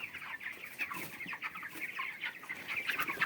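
Many chickens on a village poultry farm cluck and chatter together, a soft, busy murmur of overlapping calls heard from a little distance.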